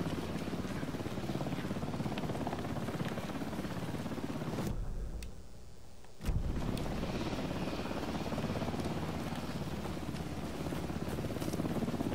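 A steady, loud rotor drone from a helicopter in the video game Alan Wake 2 fills the scene, dropping out abruptly for about a second and a half before resuming at full strength.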